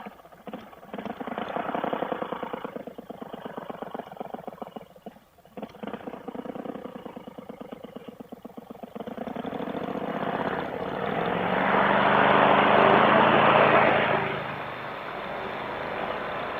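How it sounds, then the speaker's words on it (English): A small propeller aircraft with a faulty fuel pump takes off, its engine droning steadily and then swelling to a loud, broad roar near the midpoint before easing off, with no talk over it. "That was a takeoff right there."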